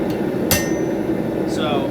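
A hammer strikes metal on a new anvil with one loud, ringing blow. A fainter tap comes before it, and a ringing tone rises near the end over steady background noise.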